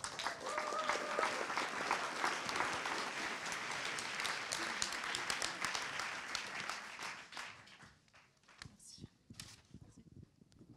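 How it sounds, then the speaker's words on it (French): A crowd at an anniversary evening gala claps loudly for Sylvie Bénard and Stéphane Rio, sustained dense applause that fades after about seven seconds into scattered claps and a voice. "Je vous demande un tonnerre d'applaudissements pour Sylvie Bénard et Stéphane Rio"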